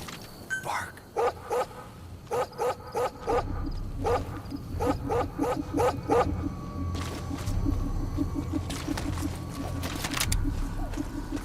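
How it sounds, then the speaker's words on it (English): Dog barking in Metal Gear Solid V: The Phantom Pain, a run of sharp, evenly spaced barks in quick bursts, close and clear over low game ambience, followed by softer background sound. "Bark."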